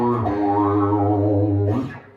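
Electric guitar played through a cheap homemade talkbox, a sustained chord or note with a vowel-like, wah-style sweep at the start and the end, loud and up close with no talking.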